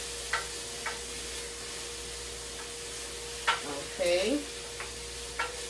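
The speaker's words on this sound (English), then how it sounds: "Get my wooden spoon and just toss that around in the garlic and in the onion." Onion and garlic cook in a pan, stirred with a wooden spoon: a faint steady sizzle under a few scattered scraping knocks of the spoon, with a brief spoken word partway through.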